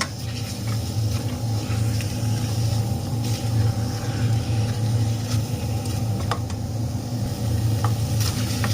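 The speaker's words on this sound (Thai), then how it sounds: "พัดให้หมูเขากับพริกแกงให้หอมดีจ้ะ" Pork and curry paste sizzle steadily in a hot pan, with occasional scrapes and clinks as the food is stirred.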